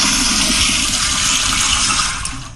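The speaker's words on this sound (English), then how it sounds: "let's flush it all away" A toilet flush roars loud and close, a steady rushing gush of water that holds for about two seconds before draining away and fading at the end.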